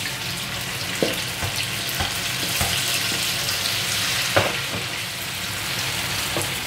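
Shrimp fry in melted butter over high heat, giving a loud continuous sizzle broken by several sharp crackles and pops, close up with no speech.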